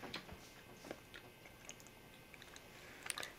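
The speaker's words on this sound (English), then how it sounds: "and I'm gonna chew it" Close, soft chewing of a gummy pizza-slice candy, with faint wet clicks and bites scattered irregularly over a quiet background.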